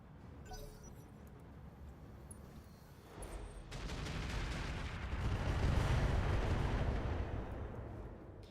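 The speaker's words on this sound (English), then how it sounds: "Firing everything I've got" Mech weapons fire in the RogueTech battle game, a dense rumbling barrage of artillery-like booms that swells after a few seconds into a sustained, heavy roar of overlapping shots.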